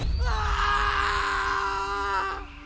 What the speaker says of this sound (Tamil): ஒரு சில நிமிடத்தில் அந்த காடை அதிரும்படியான அலறல் சத்தம் கேட்டது